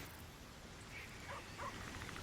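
A dog in the video game Baldur's Gate 3 gives a few faint, soft yips and whimpers while being petted, heard over a quiet, steady background.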